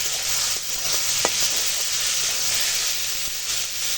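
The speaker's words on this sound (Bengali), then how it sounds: "এখন চিকেনটাকে শুধু রান্না করে নেব" Chicken with ridge gourd cooking in a pan with no added water, a steady loud sizzle and hiss throughout with a few faint, brief clicks of stirring, close by.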